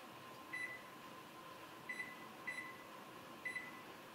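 An oven timer being set in a home kitchen while making chili cheese fries: four short, faint electronic beeps spaced irregularly over a low, steady appliance hum.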